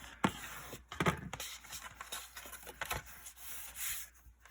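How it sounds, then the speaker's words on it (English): Paper is folded and burnished along a 1/4 inch score line for a large mini album, giving soft, close rubbing and scraping strokes with a few crisp taps, quiet and intermittent. "I'm going to go ahead and fold and burnish my 1/4 inch score line."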